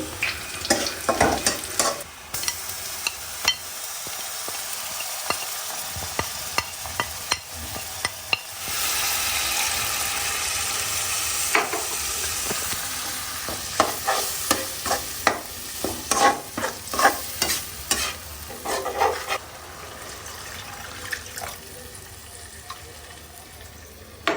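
Onions fry until browning, then spices including ground coriander join them, all stirred hard in a pan. Brisk scraping and clattering strokes come in bursts over a steady sizzle, with a calmer stretch of plain frying in between, close and loud, no talk.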